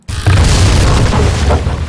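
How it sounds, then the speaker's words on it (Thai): A loud, rumbling crash erupts suddenly and roars on for about two seconds, a video game sound effect of a bridge breaking apart. "เสียงอันนี้เสียงสะพานพังนะ"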